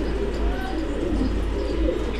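A pigeon coos in low, murmuring throaty calls, close and steady over a dull background hum.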